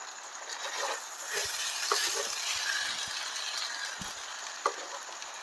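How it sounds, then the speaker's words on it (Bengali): Spatula scraping and stirring sour, spicy semai vermicelli in a frying pan over a soft sizzle, with a few sharp clinks against the pan, close and steady with no talking. "এরপর হালকা হাতে ভালো করে সব মিক্সড করে নেব"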